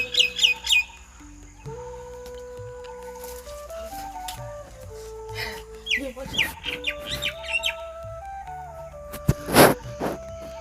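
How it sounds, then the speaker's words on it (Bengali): Birds chirp and call around a village home, with a rooster crowing and hens clucking; bright, repeated tweets and calls rise and fall across the scene, some close and sharp, with a loud burst near the end. "পাখির ডাক, কাকের ডাক, মোরগের ডাক সব কিছুই আসে এখানে।"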